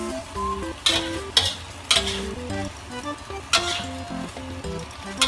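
Water spinach stir-fried in a pan with a soft sizzle, the utensil clinking and scraping against the metal in periodic strokes, close by, over light background music.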